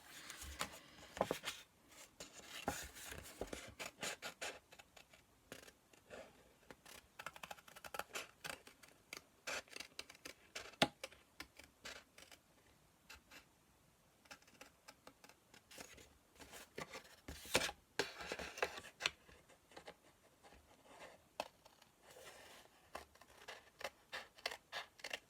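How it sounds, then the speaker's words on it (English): Small scissors fussy cutting paper dragonfly wings for a handmade card: close, quiet snips in irregular bursts with paper rustling between cuts and short pauses. "I'm just going to fussy cut out these two sets of wings. So I've just got my little scissors."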